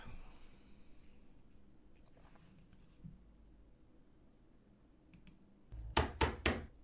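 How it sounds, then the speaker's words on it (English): Knocking at a door: three quick, solid knocks near the end, moderately loud against a faint room hush, preceded by a few soft clicks. "Someone's knocking at my door."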